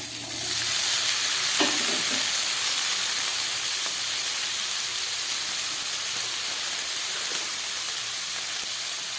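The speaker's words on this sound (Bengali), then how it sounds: "দিয়ে দিচ্ছি টমেটো আর দিয়ে দিচ্ছি কেটে রাখা কুমড়ো আর আলু।" Chopped tomato, cut pumpkin and potato fry in a pan with little oil, giving a loud, continuous hissing sizzle that holds steady and close throughout, with no voices.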